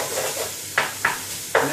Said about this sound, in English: Make sure you keep moving it around your pan.